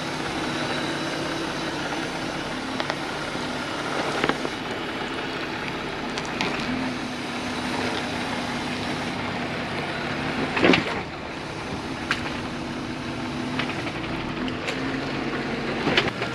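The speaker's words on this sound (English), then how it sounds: "the Wrangler with no lift in 35 is doing the same 2 obstacles" A Jeep Wrangler with no lift on 35-inch tires crawls over off-road obstacles, its engine a steady, continuous drone throughout, with occasional knocks and thumps as the suspension and tires work over the terrain.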